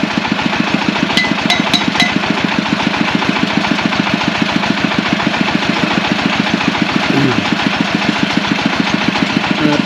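A groundwater well drilling machine at a drinking-water plant runs loud and steady, with a fast regular thumping pulse and rattling clanks, a few brief metallic pings near the start.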